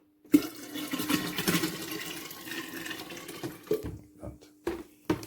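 Water runs into a container, a splashing, gurgling pour that rises and fades in several bursts, ending in short separate spurts.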